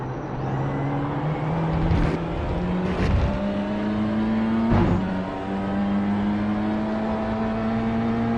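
Race car engine in a racing video game, droning steadily close up, with a few sharp bursts as it shifts straight from fourth gear down to second.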